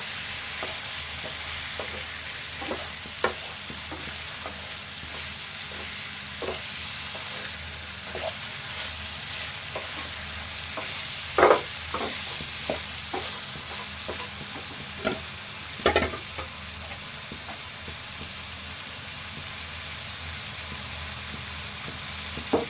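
Chicken with green chillies being stirred in a hot pan. A steady sizzle of frying runs throughout, broken by scattered clicks and scrapes of a spoon against the pan. No voices are heard.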